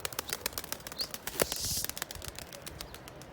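A burst of wing flapping as pigeons take off, a rapid flutter peaking midway against soft outdoor background noise.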